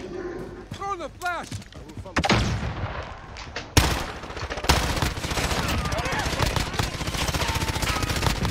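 Rapid bursts of gunfire from Call of Duty Modern Warfare, including dual Sykov pistols and a shotgun, crack loudly and repeatedly in dense volleys, with a voice speaking briefly over the game action.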